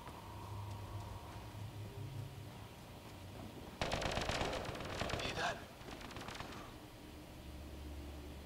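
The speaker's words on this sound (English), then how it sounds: "They shot him." Gunfire in the video game Mass Effect Andromeda: a dense, loud burst of rapid shots lasting under two seconds, rising abruptly from a low ambient hum and cutting off sharply.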